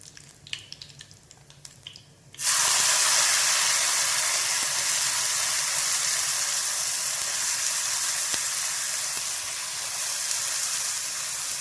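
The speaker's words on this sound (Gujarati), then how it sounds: "પછી એની અંદર આપણે સમારેલી ડુંગળી નાખીશું." Chopped onion hits hot oil after a few quiet kitchen clicks, bursting into a loud, sustained hissing sizzle that carries on steadily, easing slightly toward the end.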